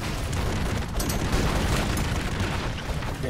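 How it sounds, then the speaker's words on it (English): Dense, continuous explosions from the Broforce game on PS4 roar as a wall of overlapping booms and crackling blasts, loud and unbroken throughout with no voices. "there's a lot of explosions right here"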